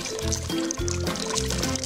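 Hot water poured over ice to melt it in an animated rescue adventure, a steady liquid pour running under bright cartoon music for about two seconds.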